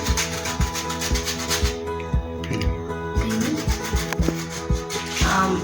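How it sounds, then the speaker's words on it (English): Lemon zest is rasped on a grater in quick, rhythmic strokes, a close, repeated scraping that pauses briefly before the strokes resume. "just to increase flavor, grate lemon"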